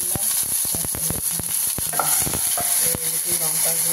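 Cumin seeds tempering in hot oil for an egg and pointed gourd curry, a steady sizzle with a run of sharp crackles and pops close by, no voices.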